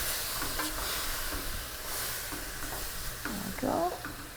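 Food sizzles and crackles steadily in a hot pan for pastelle filling, with a few scraping stirs of a utensil and a brief louder clatter near the end, no talking.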